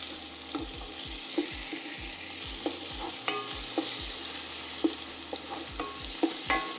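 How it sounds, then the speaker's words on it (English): Sausage frying in a pan gives a steady sizzle, with repeated scraping and stirring knocks from a utensil at irregular intervals. No one speaks. "Next, I'm going to add my sausage to the pan."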